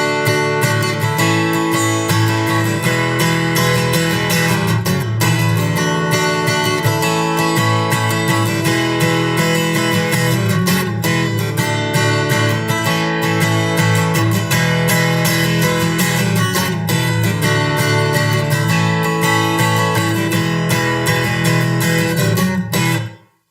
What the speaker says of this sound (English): So this is a nice big full strumming pattern.